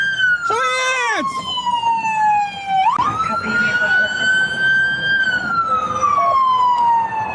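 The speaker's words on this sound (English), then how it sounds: "Kill sirens, guys, kill sirens." Loud police car sirens wail and sweep in pitch, switching patterns partway through, close by over a rumbling vehicle engine.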